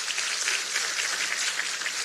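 Steady applause from a crowd at a People Power Party political event in South Korea, a dense wash of many hands clapping together without pause.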